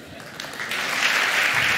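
Audience applause fills a conference hall at the re:publica 2019 event, a dense, steady clapping that builds and holds at full strength across the clip.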